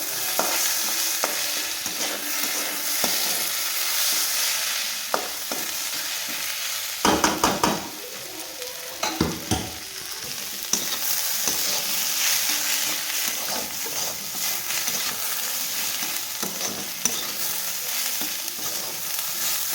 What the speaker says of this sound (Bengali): চালটাকে ভালো করে ভাজবো।